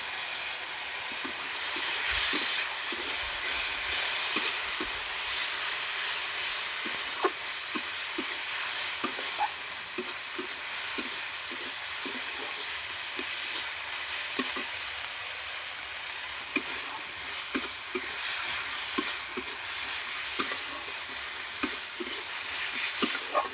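Banana flower and prawns fry with spices and fenugreek leaves in a home kitchen pan, a steady hissing sizzle broken by repeated scraping stirs and occasional clicks of the spatula against the pan, with no talking.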